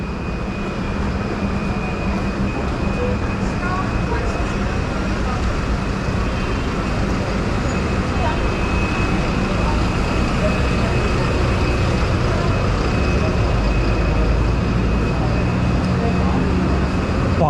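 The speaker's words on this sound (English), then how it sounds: "Buses are in a queue." Buses queue on the busiest street of the Pretoria central business district, producing a loud, continuous broadband rumble of idling engines and city traffic, with faint voices mixed in.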